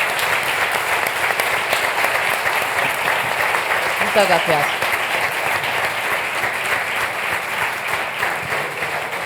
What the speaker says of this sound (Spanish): vamos a darles un fuerte aplauso a nuestros intervinientes